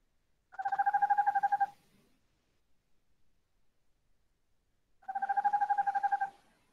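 Two recorded calls of the Cholakkoduvan bird, each a rapid pulsed trill of about a second with a clear, tonal quality. The calls are separated by a few seconds of near silence.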